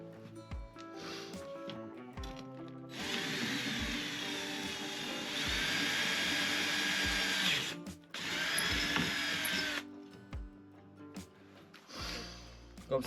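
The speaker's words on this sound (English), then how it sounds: "So now the two holes are drilled." A power drill bores holes into a van to mount recovery tracks, whining steadily in two long bursts separated by a short pause, framed by clicks, handling noises and occasional speech at a moderate distance.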